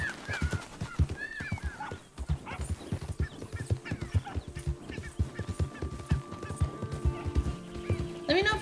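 A horse in Red Dead Redemption 2 trots with a steady, close clip-clop of hooves, and it whinnies or snorts at times. Someone talks over the hoofbeats throughout.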